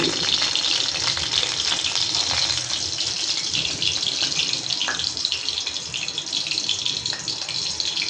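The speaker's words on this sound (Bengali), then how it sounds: "তেলের পিঠার মতন পড়ছে ডিমটা, ভাজা হয়ে গেছে, বেশি ভাজবো না।" Egg frying in hot oil gives a steady, loud sizzle and crackle with no pauses, close up and alone.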